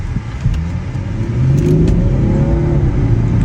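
Volkswagen Touareg accelerating hard from a standing start, a loud close engine roar that rises in pitch and swells as it pulls away, with no voices over it.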